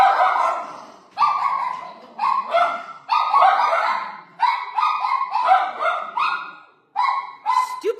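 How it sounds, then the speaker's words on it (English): Dogs barking indoors from a sofa, several loud, close bursts of repeated barks and yips in uneven clusters separated by brief pauses, with no talk over them. "rather than my dogs charging out there, they're like, no, we're just going to sit on the sofa and bark from here"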